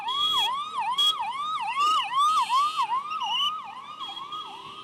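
An ambulance siren wailing loudly in a rapid repeating rising-and-falling pattern, close by on a busy market road, with a second siren tone layered in and faint traffic noise beneath.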